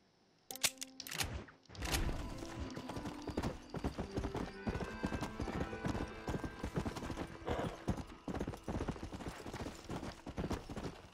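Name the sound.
horse hooves in video game Red Dead Redemption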